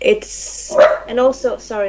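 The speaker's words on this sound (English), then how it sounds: "that's my dog" A dog barks a few times close by, sharp yelps mixed in with people talking over it indoors.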